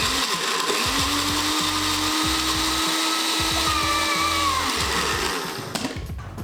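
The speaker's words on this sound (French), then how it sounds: "Attendez, je vais d'abord mixer sur la pâte et la pâte je vais la couper en petits morceaux" An electric blender mixes McDonald's food and dough with a loud, steady whirring drone that runs for about five seconds before spinning down and stopping.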